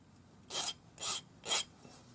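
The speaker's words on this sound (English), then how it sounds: "file the end flat" Three even strokes of a file rasp across the end of a 50 mm metal French ear wire, flattening it, each a short gritty scrape close by in a quiet room.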